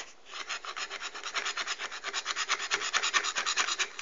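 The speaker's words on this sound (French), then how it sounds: "vous allez râper votre craie" Chalk grated with a blade for faux sugar made from polymer clay, a close raspy scraping in quick repeated strokes that builds slightly in loudness, with no voices.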